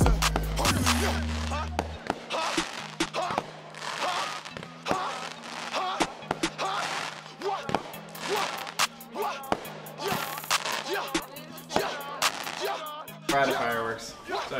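Rapid sharp bangs and crackling pops burst one after another over a steady droning tone.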